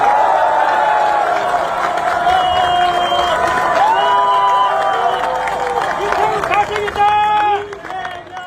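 A political gathering's audience of supporters cheers and applauds for lawmaker Kim Sang-wook, with sustained loud crowd noise, shouts and clapping throughout, plus voices calling out over the din.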